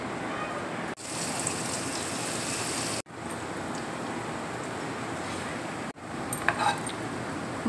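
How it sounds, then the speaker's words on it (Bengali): Yogurt kebabs frying in hot oil in a wok, a dense rain-like hiss and sizzle that runs in several segments broken by abrupt cuts, with faint clinks near the end. "এবার আমি এক এক করে তেলের মধ্যে ছেড়ে দিচ্ছি।"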